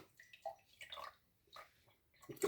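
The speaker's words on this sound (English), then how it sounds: "So we're going to do a little splash of milk." A small splash of full-fat milk is poured during Yorkshire pudding preparation, giving a few soft, close liquid trickles and gurgles in short bursts with quiet pauses between.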